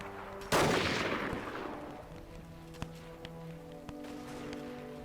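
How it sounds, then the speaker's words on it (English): In the video game Between Empires, one loud, close gunshot cracks and rings out in a long decaying tail, followed by a few faint, sharp distant reports. "That guy all the way over there is shooting at me."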